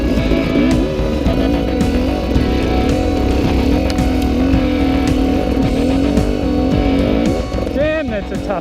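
An enduro motorcycle climbs a rocky hill face with steady engine drone and revving, loud and continuous, dropping off slightly near the end while a voice talks over it.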